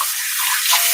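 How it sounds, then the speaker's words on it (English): Tap water runs in a steady hissing stream while a stainless steel tea infuser is rinsed, close and loud with a slight shift in tone as the flow hits the metal. "got to rinse that one off"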